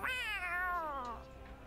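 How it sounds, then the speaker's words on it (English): A black cat meows once in Tales of Arise, a single drawn-out, wavering call that rises and then slowly falls, loud and close over a faint game ambience with no talk. "Follow the black cat."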